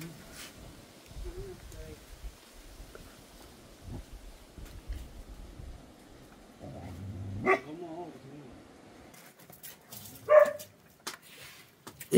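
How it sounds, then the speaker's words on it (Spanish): Several agitated dogs bark and yip outdoors around rural houses, with scattered barks, whimpers and a louder sharp bark near the end, mixed with people talking. "Están revolteados esos perros."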